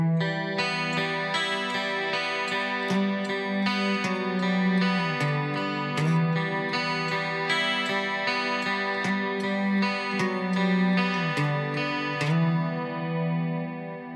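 Clean electric guitar picks out a steady atmospheric gothic arpeggio, single notes ringing and overlapping through chorus and delay effects, with the bass note shifting partway through.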